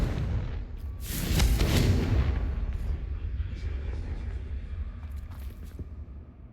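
In Hogwarts Legacy, a Confringo fire spell bursts with a loud boom that swells and rumbles for a second or two. The blast then decays into a low lingering roar, with a few faint clicks afterward.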